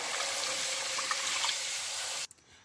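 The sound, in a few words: water being added to korma masala in pot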